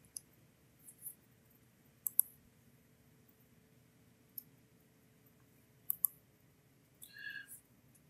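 A computer mouse clicks sparsely while vertices are edited in ArcGIS Pro, quiet sharp single and double clicks spaced irregularly against a near-silent room.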